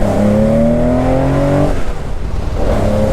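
A 1972 Porsche 911 with a 3.2 short-stroke engine revving loudly from inside the car, pitch rising steadily then cutting off before climbing again, no talk.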